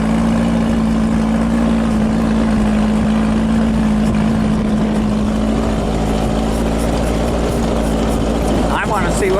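An off-road vehicle's engine runs steadily on sand, a strong low hum holding under continuous wind noise, with a brief rise near the end as it is given gas; a voice speaks over it.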